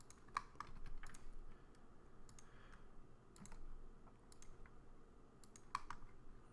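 Someone enters dimensions on a computer keyboard, a scattering of faint, quick key clicks in irregular small bursts against a quiet background, with no speech.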